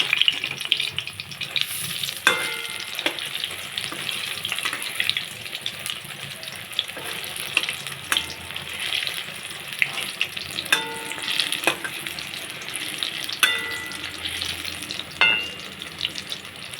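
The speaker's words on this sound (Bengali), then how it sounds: "বড়াগুলো ভাজা হয়ে গেছে এবার তুলে নেব" Helencha leaf fritters fry in hot oil with a continuous sizzle, punctuated by sharp metallic clinks and scrapes of a spatula as they are turned.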